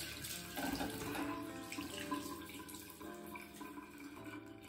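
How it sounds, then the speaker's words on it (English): Cold water runs from a bathroom tap into a sink during a wet shave, a soft, steady splashing stream heard up close and fairly quiet, with no talking. "Nice cold water."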